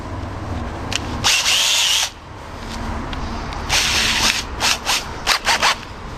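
A handheld power drill spins up in several loud bursts, boring through the back of a homemade .50 caliber blow gun's guide hole, with short pauses and quieter stretches between runs.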